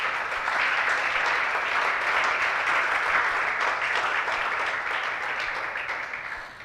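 A church congregation applauds during a Sunday morning service, a steady, dense wash of clapping that holds at full strength for several seconds before easing slightly at the end.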